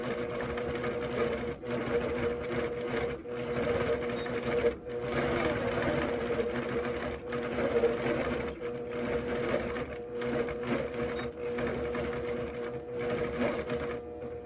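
A sewing machine runs steadily through free-motion quilting of tiny feathers with the stitch regulator on, a loud continuous whir with brief pauses and speed changes throughout.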